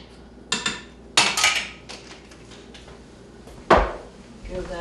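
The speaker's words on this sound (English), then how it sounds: "Give that a little bit of a stir" A spoon or utensil clanks and scrapes against a pot holding white vinegar, granulated sugar and celery seed, several sharp metallic knocks spaced irregularly, close and fairly loud with quiet room noise between.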